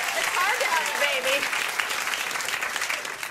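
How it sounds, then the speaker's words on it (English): A late-night talk show studio audience applauds loudly and steadily, a dense wash of clapping while a voice speaks over it. "They're slow to applaud new human life"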